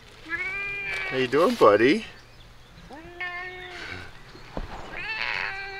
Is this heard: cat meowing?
yes